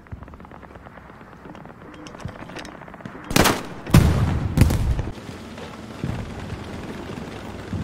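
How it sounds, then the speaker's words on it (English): Heavy gunfire in the World War II shooter Hell Let Loose: a low rumble of distant battle breaks into several loud, close bursts of shots with sharp cracks, then fades back to scattered background fire. "Oh, we're taking fire. Heavy fire."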